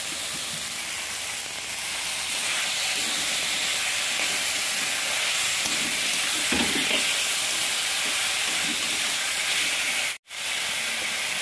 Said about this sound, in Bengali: দেখো ভেজে রাখা আলু আর মাশরুমগুলো একটু দিয়ে আমি ভালো করে নেড়ে চেড়ে